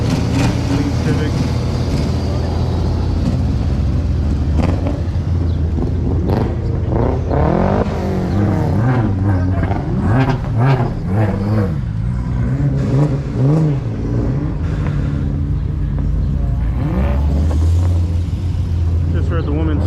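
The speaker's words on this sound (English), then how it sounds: "most of these cars have heavy clutches in them, so you have to rev them to the moon pretty much to kind of get them to move" Cars at a Cars and Coffee meet held at a brewery, with engines revving and rumbling loudly in bursts, several flaring higher, continuous traffic and crowd noise throughout and people talking nearby.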